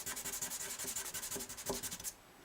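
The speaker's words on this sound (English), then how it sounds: "This 800 or 1000 grit paper, I started to go with 800 and I was afraid. So this is 1000 grit." Rhythmic back-and-forth rubbing of 1000 grit sandpaper over the finish of a Gibson J40 acoustic guitar, close and steady for about two seconds before stopping abruptly.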